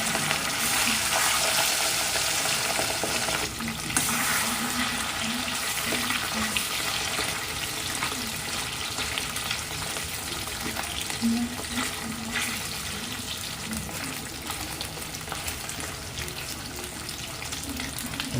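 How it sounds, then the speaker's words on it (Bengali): Pieces of katla fish fry in white oil in a wok, a steady loud sizzle that holds for the whole stretch with no pauses, close by and without talk. "এবার আমি একে একে মাছগুলোকে ভেজে নেব।"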